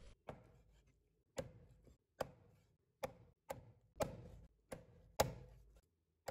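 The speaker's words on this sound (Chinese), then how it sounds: "再给它剁小块，这样可以减少烹饪的时间。" A cleaver chopping half a hen into small pieces on a board, about nine crisp, separate thuds at a fairly steady pace, quiet and close, with no talking.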